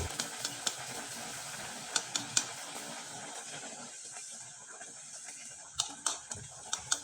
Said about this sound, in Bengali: এবার আপনাদের একটা পিঠা আমি তেলে ভেজে দেখিয়ে দিচ্ছি